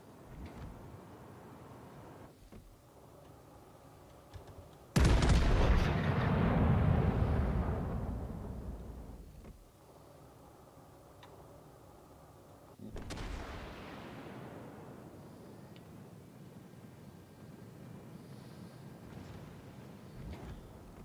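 Two heavy naval gun salvos boom out against an AI-controlled battleship in World of Warships Legends, each a loud blast followed by a long rumbling decay, spaced several seconds apart over a low steady background.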